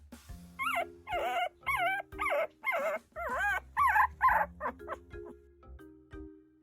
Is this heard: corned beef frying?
no